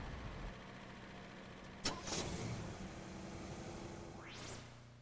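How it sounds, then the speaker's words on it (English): A car engine running at a steady idle after a jump start, a low continuous hum throughout, with a brief sharp transient near two seconds and a rising whoosh toward the end. "Then start your engine and allow it to run for a few minutes."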